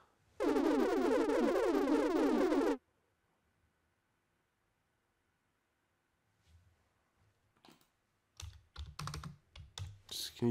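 Rapid typing on a computer keyboard during a Nintendo Switch SmileBASIC 4 session, a dense burst of clicks for about two seconds, then near silence before a few scattered taps and soft knocks.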